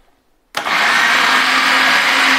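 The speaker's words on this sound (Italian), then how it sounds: "chiudiamo il frullatore e cominciamo a frullare" An electric blender starts abruptly after a short silence and runs at a loud, steady whir while beating eggs into a pastry cream for filling choux puffs.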